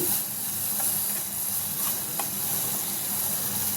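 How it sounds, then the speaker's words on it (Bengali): Sugar caramelizing in a pan for homemade egg caramel pudding, giving a soft, steady sizzle and hiss with a few faint ticks and pops, quiet and without talk. "আমি এখানে চিনি আগে ক্যারামেল করে নেব"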